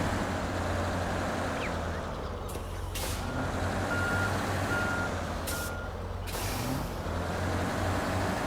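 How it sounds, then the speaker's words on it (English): A large truck reverses, its backup alarm beeping steadily over a loud, constant engine rumble, with a couple of sharp hissing bursts like air brakes releasing. "So you got to reposition the truck to be able to make it around the next turn."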